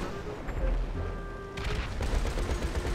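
Rapid bursts of gunfire in Grand Theft Auto V, with machine-gun-equipped cars in a street race, rattling continuously and loudly, growing denser and heavier partway through, with no talk over it.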